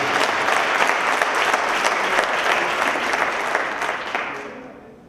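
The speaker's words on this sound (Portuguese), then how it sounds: "Dê um aplauso a Jesus por isso." Congregation at a church congress in 2012 applauding, a dense, steady wash of clapping from many hands that fades out toward the end.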